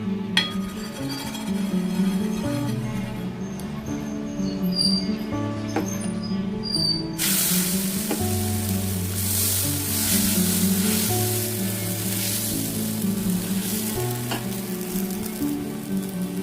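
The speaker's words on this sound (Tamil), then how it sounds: "அடுப்பில் ஒரு தோசைக்கல்லை வச்சு அதையும் நம்ம இப்போ எண்ணெய் தடவிட்டு அடை மாதிரி ஊற்றிக்கலாம்" Multigrain dosa batter sizzles steadily on an oiled griddle, a continuous close frying hiss with faint clinks of utensils, no talking.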